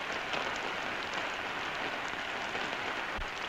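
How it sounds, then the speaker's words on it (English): Steady rain falling outdoors on a farm where corn is grown, a continuous even hiss of drops with no voices, holding at a moderate level throughout. "It's still raining."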